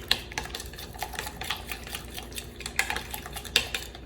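Fresh ginger and garlic being stirred in a pan, heard as soft, irregular scraping and light metallic clinks of a utensil, quiet and close with no talk.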